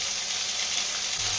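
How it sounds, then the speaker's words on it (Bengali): Chopped potatoes, beans and eggplant frying uncovered over medium-high flame: a dense, even hiss of sizzling oil, close and steady for the whole moment, with a faint low scrape near the end. "মিডিয়াম টু হাই ফ্লেম করে আমি এগুলোকে ভেজে নিচ্ছি"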